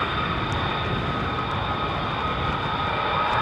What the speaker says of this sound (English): So it sounds like 767